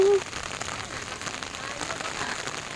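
Steady rain patters on surfaces at Neihu Lake shore, a dense close hiss of drops that carries on without letup after a brief sung note at the start.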